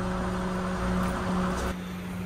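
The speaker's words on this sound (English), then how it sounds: "listen to the running. This is just on idle without any accessories on." A BMW 328i idles steadily with no accessories running, producing a continuous low mechanical drone with a constant hum. It plays close and alone, with no change in pitch.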